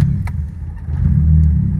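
A car engine, its throttle body somewhat dirty, runs as a low, loud, close rumble that swells slightly with a light throttle rev partway through the brief burst.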